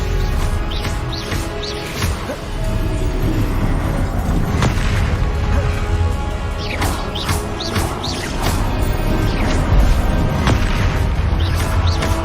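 Booming spell blasts and crashing impacts from the video game Hogwarts Legacy fire in rapid succession over a dense, continuous battle din, loud and close with sharp bursts throughout.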